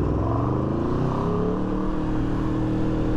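A truck passing close by on a street, a loud continuous engine drone and whir sweeping past over about three seconds, with no talk.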